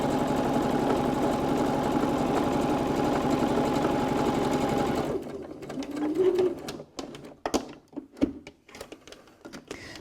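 A sewing machine runs steadily for about five seconds, back stitching a quarter-inch seam to hold two fabrics together, then stops, leaving scattered soft handling clicks and taps.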